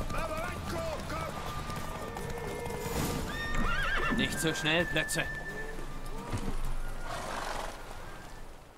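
Several horses gallop with rapid hoofbeats in a roadside horse race in The Witcher 3 video game, with repeated loud neighs and whinnies as someone speaks over the running herd.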